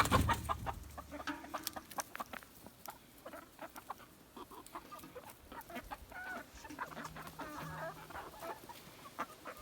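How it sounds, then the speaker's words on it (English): Chickens cluck and chatter in a quiet, busy flock, with short scattered calls overlapping throughout. "Chickens, I have a treat for you."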